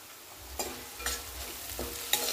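Chopped onion with crushed ginger, garlic and curry leaves frying in a pan, a soft steady sizzle broken by four scraping stirs of a spoon at regular intervals.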